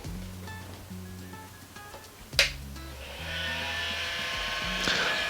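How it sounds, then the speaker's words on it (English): An FDM 3D printer powering up: brief stepper-motor tones and a sharp click, then a steady whirring rush of noisy cooling fans building and holding at close range, with no voices. "Lovely noisy printer."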